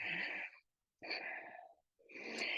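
Breathing during a yoga flow, close and quiet: three long airy breaths with a noticeable wheezy hiss, separated by short silent pauses.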